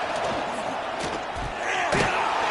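A loud stadium crowd at a Texas vs Texas A&M college football game, a dense, roaring wall of cheering that swells near the end.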